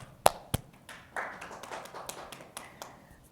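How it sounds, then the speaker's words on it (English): A few people clap for CancerCare Manitoba staff at an online public forum, producing sparse, uneven claps and taps with a couple of sharp close hits early and fainter scattered ones after. "take a pause and applaud all the CancerCare Manitoba staff and staff of the healthcare in Manitoba"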